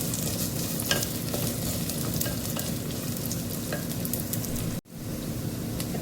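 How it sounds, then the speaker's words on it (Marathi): Lotus stem sautés with onions in a hot pan, giving a constant close sizzle with scraping stir strokes throughout, a brief cut near the end, and no voices. "जरा परतून घेते कांद्यामध्ये।"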